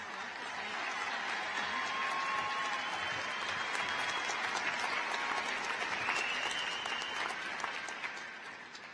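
Steady, sustained applause from a large audience at a 2016 Shadle Park High School graduation ceremony, a dense wash of many hands clapping continuously without a break.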